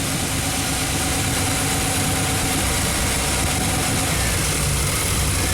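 Classic Chevy engine idling steadily at close range, a continuous mid-low rumble with constant mechanical noise and no revving or voices.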